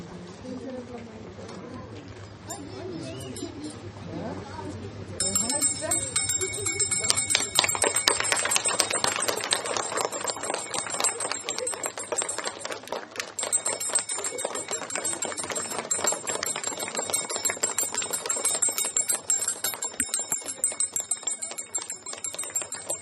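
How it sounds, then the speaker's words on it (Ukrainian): A hand-rung school bell marks the first day of the new school year at a Ukrainian school ceremony, ringing rapidly and continuously for most of the clip after a few seconds of crowd murmur and voices. "Дзвіночку, співай, як ніколи, дзвони веселіше для нас."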